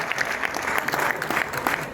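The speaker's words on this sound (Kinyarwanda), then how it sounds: "amashyi menshi cyane mubashimire" Wedding guests applaud in a thick, continuous wash of clapping from a crowd, loud and even from start to finish.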